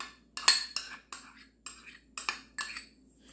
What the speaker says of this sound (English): I know that scraping bothers some of y'all.